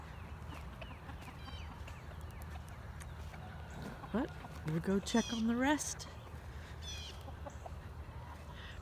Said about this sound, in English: There's chickens loose up here.